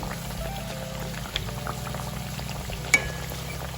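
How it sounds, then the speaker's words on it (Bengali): Steady bubbling and crackling of singaras deep-frying in oil, continuous and close, with a couple of brief clinks partway through. "ভালো করে লাল লাল করে ভেজে নিতে হবে।"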